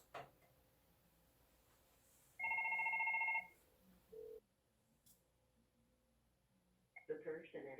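A FortiFone IP desk phone rings for an incoming call with one steady electronic tone burst lasting about a second, close and clear against a quiet room, then a short click; a voice begins talking afterward.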